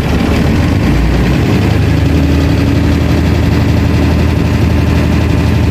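Handmade motorhome engine held at a loud, raised idle, a dense, rough mechanical clatter and low rumble that stays steady and close throughout.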